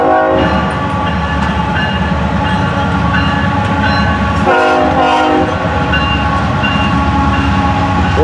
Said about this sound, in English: Looking for FEC's 204, and here they are now.